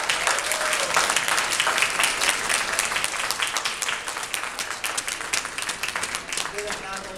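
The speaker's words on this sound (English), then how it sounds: "we have another round of applause for these students." An audience at a United Nations Association Earth Day event in Queens gives a sustained round of applause for students, steady crowd clapping with a voice briefly heard near the end.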